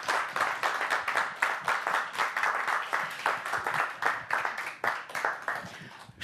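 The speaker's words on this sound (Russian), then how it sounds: "К нам ваши аплодисменты, друзья." An audience at a Gomel evening show applauds steadily, with dense, continuous clapping that stays loud and even throughout.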